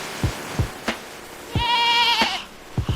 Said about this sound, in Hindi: बकरी घबराकर चीखने लगी।